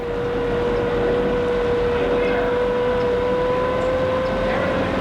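A steady low engine drone with a constant whine hums throughout, loud and close, from a tour boat motor while docking on the San Antonio Riverwalk.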